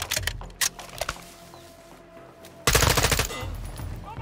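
Gunfire from the video game Call of Duty Modern Warfare II: a few sharp shots early on, a quieter stretch, then a loud sustained burst of rapid automatic fire to the end.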